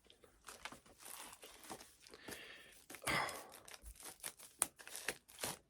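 Plastic wrapping is torn and crinkled off a film box set, with close, irregular rips, crackles and rustles in short bursts, fairly quiet.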